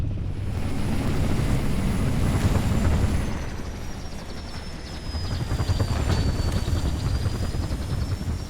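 A Falcon aircraft from Halo Reach arrives for a pickup, its loud continuous rotor and engine roar close by with a rising whine sweeping across it and no voices.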